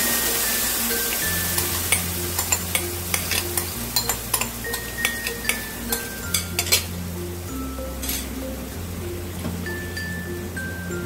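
Spiced masala frying in a pan for butter chicken as gravy is poured in and stirred, a steady close sizzle broken by repeated sharp clinks and scrapes of a spoon against the pan.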